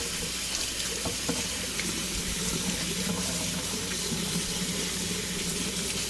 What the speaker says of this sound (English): Next, we'll thoroughly wash our kale.